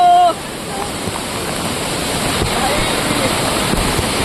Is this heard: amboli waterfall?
yes